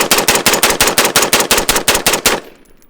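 Rapid gunfire from an AR-15 with a long stroke piston system, about fifteen close, loud shots in an even fast rhythm, then a quiet fade of range echo.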